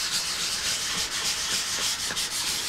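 Sandpaper rubbing steadily across the finish on the wooden body of a Martin 00 style acoustic guitar, a close, continuous scratchy hiss with quick back-and-forth strokes and no talking.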